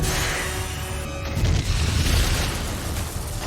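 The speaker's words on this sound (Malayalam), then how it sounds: "ഇതിനിടയിൽ സലീം കൊടുത്തൊരു മിസൈൽ കാരണം അവിടെ വലിയൊരു സ്ഫോടനം അരങ്ങേറി." A missile explosion in an Arnold Schwarzenegger action film erupts as a heavy, sustained boom. A deep rumbling roar rolls on loudly throughout, with no voices.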